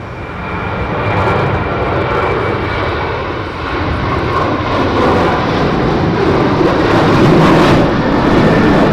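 An aircraft taking off at Manchester airport, a loud sustained jet engine roar that swells gradually and rumbles on without a break, heard from a nearby vantage point with no talking.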